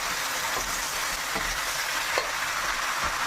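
Fried cauliflower florets stirred into a hot Gobi Manchurian sauce in a pan, giving a steady close sizzle with a few soft scraping stirs, no voices.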